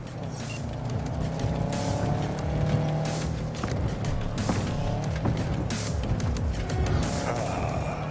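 A car driving in Cyberpunk 2077, a steady engine drone with shifting pitch as it cruises along, holding throughout without pauses and with no voices.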